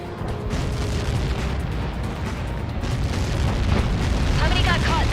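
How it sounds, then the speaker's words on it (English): A missile impact explosion in the Ace Combat 7 flight game rumbles as a heavy, sustained boom with roaring low-end debris noise, loud and dense throughout, swelling slightly toward the end. "How many got caught in that explosion?"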